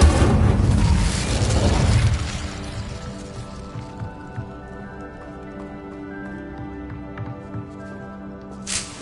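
Incendio fire spell cast in the Hogwarts Legacy video game on PS5: a loud, broad fiery whoosh and burst that lasts about two seconds and then fades into a low, lingering musical hum, with a brief crackle near the end.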